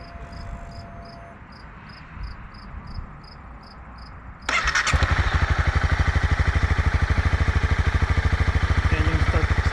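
A Honda CB300R motorcycle with stock exhaust cranks and fires up midway, then settles into a steady, loud, rhythmic idle up close, after a quieter stretch with faint background chirping.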